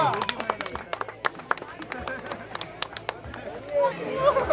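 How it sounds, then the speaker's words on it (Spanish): A crowd applauds motocross riders of the 250 class at a championship event in Formosa, with scattered sharp claps and cheering that swell toward the end, heard under a loud announcer's voice. "Un aplauso enorme, enorme el aplauso para estos pilotos de la categoría 250."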